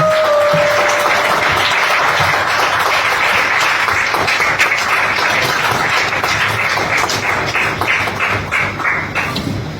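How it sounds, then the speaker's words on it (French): A church congregation at a revival seminar applauding loudly, dense sustained clapping that fills the room for the full stretch, with cheering voices mixed in and the claps thinning slightly toward the end. "On acclame très fort le Seigneur."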